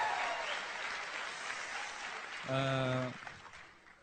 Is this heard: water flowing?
no